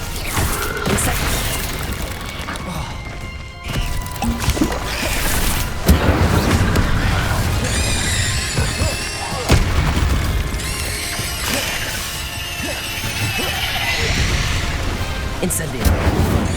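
Repeated Incendio fire spell blasts in the game Hogwarts Legacy, a series of loud booming bursts at irregular intervals over busy combat noise and music.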